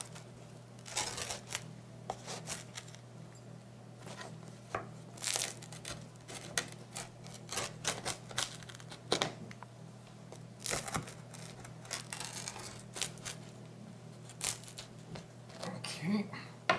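A knife saws through a crispy pizza made with cake flour, giving repeated crackly crunches and scraping bursts at close range, with quiet talk in between.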